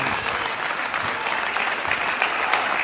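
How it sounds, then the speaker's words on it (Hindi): A crowd at a political welcome event claps steadily for a Member of Parliament, dense and continuous applause that holds at an even level throughout. "अपनी जगह पे खड़े होकर ताली बजा करके माननीय सांसद जी का आप सभी लोग स्वागत करें"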